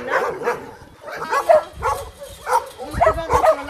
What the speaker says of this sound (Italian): Questo è Freddy, praticamente un cane che era quasi morto, mangiato dalle mosche, abbandonato davanti al rifugio